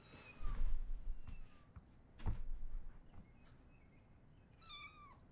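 A kitten meows several times in a quiet room, thin high cries spaced apart with soft thumps and faint rustling between them.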